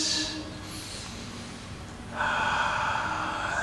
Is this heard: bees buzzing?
no